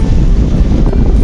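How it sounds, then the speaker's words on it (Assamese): Strong wind at Panimur falls in Dima Hasao buffets the microphone in a loud, low, unbroken roar for a brief moment, with no voices. "আপোনালোকে চাগে বতাহৰ শব্দবোৰ শুনি আছে।"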